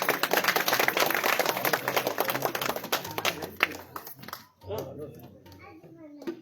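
An audience at a village felicitation ceremony gives a hearty round of applause, dense and loud for about four seconds before it thins out and voices take over.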